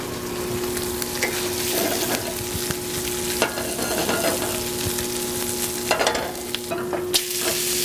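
Vegetables sautéing lightly in butter in a pan, a steady close sizzle with occasional stirring scrapes and clinks, with no talk.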